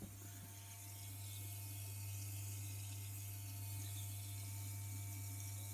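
A washing machine's water inlet solenoid valve runs with its top cover off, giving a steady, faint hum with a low tonal drone and a hiss of water flowing, unbroken throughout with no voices.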